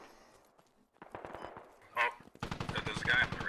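Enemy M4 rifle gunfire in the military shooter game Squad, a rapid burst of sharp reports building toward the end after quieter clatter, fairly loud and close, with no talk over it.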